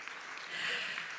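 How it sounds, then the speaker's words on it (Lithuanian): Audience applause at a Lithuanian dance competition show, a steady wash of clapping from a crowd that swells slightly midway and holds for a moment, with no voices over it. "didžiausi aplodismentai ir Simonai keliauja iš jūsų rankelių"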